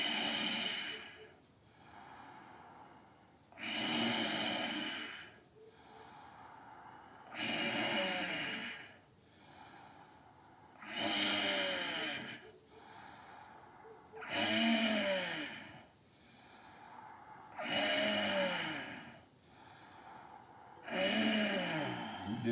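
Deep, slow breaths during a yoga breathing exercise, about seven long inhale-exhale cycles in a steady rhythm, close and fairly loud, with no talking.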